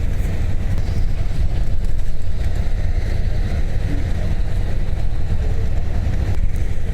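Buses and trucks pass through Glasgow street traffic, a loud, continuous low engine rumble and road roar that holds steady without pauses.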